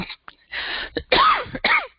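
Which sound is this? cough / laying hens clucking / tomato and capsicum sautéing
cough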